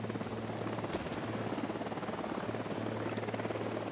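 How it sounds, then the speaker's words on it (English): A helicopter in the video game Ghost Recon Wildlands drones steadily with a deep, continuous rotor thrum and buzzing hum, close and unbroken throughout, with no speech over it. "Hit the dirt, helicopter."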